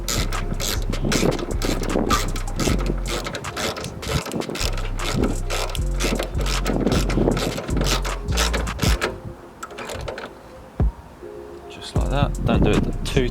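A ratchet tightens a 10mm bolt on the coolant expansion tank of a Ford Fiesta ST150, giving a close, fast, continuous run of pawl clicks that pauses briefly near the end before resuming.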